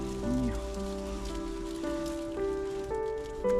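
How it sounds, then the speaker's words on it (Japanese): Light rain falls steadily as a soft, continuous patter, with a low hum of steady tones running underneath throughout. "小雨が降ってきて"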